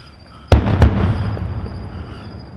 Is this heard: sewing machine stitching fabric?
no